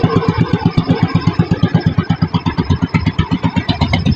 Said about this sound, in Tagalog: Yan ang ingay, no? Yung makina sa compressor.